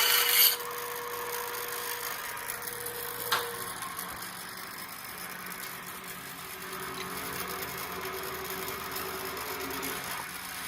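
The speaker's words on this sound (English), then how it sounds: "I will be shinto rasping a little bit more of this shelf off" A shinto rasp files wood on the shelf of a Brant & Cochran Maine half-wedge axe head, giving faint, steady rough rasping with a few brief scrapes, quiet and alone throughout.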